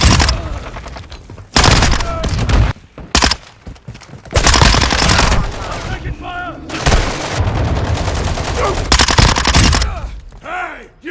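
Bursts of Minibak SMG fire from Modern Warfare 2 gameplay ring out loud and close, rapid automatic strings broken by short gaps, with a voice talking between volleys.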